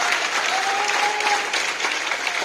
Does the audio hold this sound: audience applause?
yes